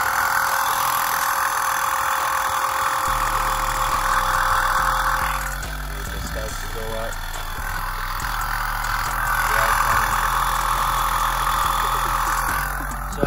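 A 2007 Chevrolet Impala engine runs steadily while a wheel spins up to about 35 mph. A close, constant mechanical drone deepens and grows fuller a few seconds in, then holds with slight swells.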